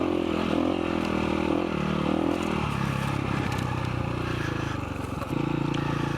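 A KTM 525 EXC enduro motorcycle engine running off-road on a trail in the Algarve, a loud, continuous rumbling drone with a shifting throttle tone and some clattering rattles.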